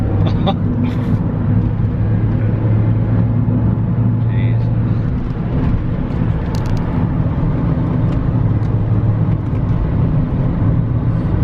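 A supercharged R53 Mini Cooper S pulls onto a slip road, its engine giving a steady, loud drone with a low hum from inside the cabin, and voices may come through now and then.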